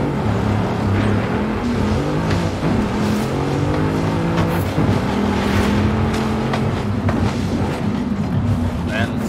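A car in the video game Forza Horizon 5 drives and accelerates, its engine droning loud and steady with rising and falling revs, and talk over it.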